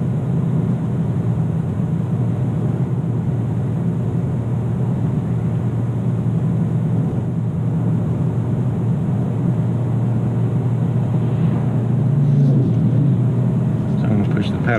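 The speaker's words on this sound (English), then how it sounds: "Paddle shifter and downshift." A 2017 Kia Optima SX Limited drones with steady engine and road rumble inside the cabin, and a paddle-shift downshift brings a brief rise in revs near the end.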